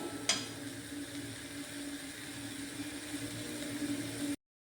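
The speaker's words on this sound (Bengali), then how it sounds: "এবার এটাকে ভালো করে নাড়াচাড়া করে এই জলটাকে শুকনো করে নিতে হবে" Onion chutney stirred and frying in a pan, a steady low sizzle with faint scraping throughout and a short sharp clink near the start, no talking.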